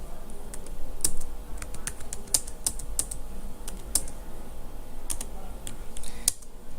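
Computer keyboard typing on billing software for a jewellery shop, with irregular key clicks and a few firmer presses like the enter key, close and fairly clear over a low background hum.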